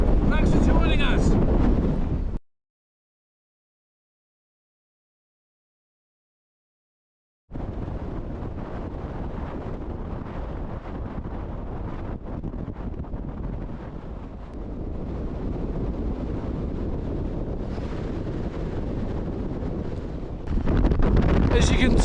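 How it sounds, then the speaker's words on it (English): Strong wind buffets the microphone on a cold 892-metre fell summit, a loud broadband roar that drops out briefly early on, then returns steadily and gusts harder near the end. "As you can tell, it's getting a bit windy."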